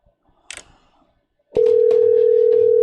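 A telephone ringing tone on an outgoing call: after a brief scuffle and a click, a loud, steady tone starts and holds unbroken to the end.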